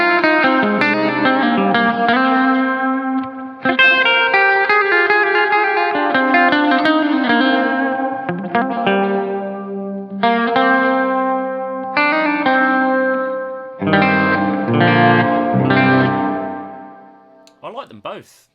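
Electric guitar through a Strymon Big Sky spring reverb on its tube setting, tone rolled down and lows boosted, plays chords and picked notes in several phrases with a splashy, echoing tail, loud and alone.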